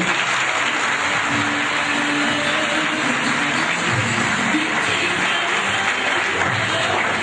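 An audience at a Turkish commemorative evening event claps steadily, dense sustained applause filling the hall with no break.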